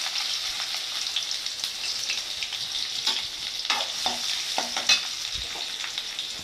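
Small-cut onions frying in oil with fenugreek seeds, a moderate crackling sizzle under repeated scrapes and taps of a stirring spoon against the pan.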